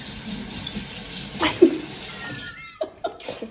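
Water running from a kitchen or bathroom tap, a steady rushing stream that stops abruptly partway through, followed by quiet room sounds with faint voices.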